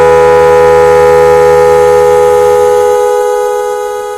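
A loud, steady electronic motorcycle horn tone holds close by, then fades out toward the end.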